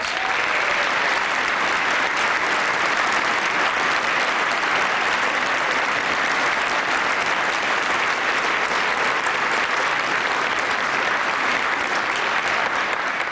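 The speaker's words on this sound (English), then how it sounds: "I'd ask you all to give them a great round of applause." Luncheon audience at an award ceremony breaks into loud, sustained applause, dense even clapping filling the room without pause for over thirteen seconds.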